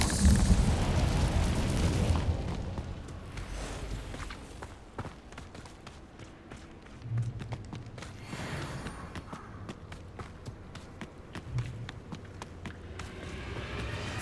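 Incendio fire spell cast in Hogwarts Legacy: a loud roaring burst of flame at the start that fades, followed by quiet footsteps and occasional softer thumps.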